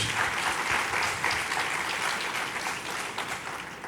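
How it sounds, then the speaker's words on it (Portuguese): A church podcast audience applauds the pastors, a dense sustained clapping from a sizable crowd that stays loud and even for several seconds before tapering slightly. "Você pode aplaudir mais uma vez as pastoras?"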